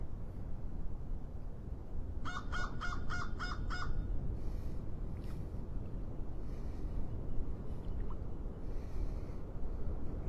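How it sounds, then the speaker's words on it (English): An unidentified bird squawks from trees across the water on an early morning at Clam Pass in North Naples, Florida: a quick burst of about six harsh, crow-like calls, then quieter scattered calls over steady wind and ambient rumble. "Not exactly sure what kind of bird that is squawking over there."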